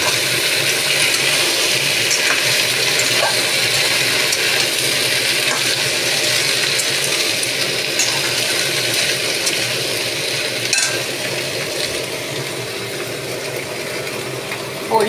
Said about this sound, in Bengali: এবার এগুলো একটু ভাজবো।